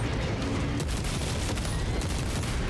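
Sustained gunfire from shooting enemies in a Warhammer-style video game against Tyranid hordes, a dense continuous rattle of rapid shots filling the whole stretch at steady loudness, with no talk over it.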